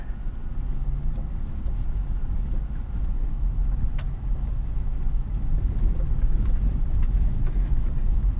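A 2022 Toyota 4Runner TRD Pro on Nitto Grappler tires crawls along a forest off-road trail, its engine a steady, close low rumble mixed with tire and suspension noise, with no talk.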